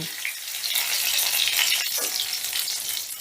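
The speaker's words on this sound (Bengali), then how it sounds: "সামান্য একটু হলুদ দিয়ে আমি পটলগুলো বেশ লাল লাল করে ভেজে নেব" Pointed gourd pieces frying in hot oil with a little turmeric, a steady close sizzle with faint stirring through the whole stretch.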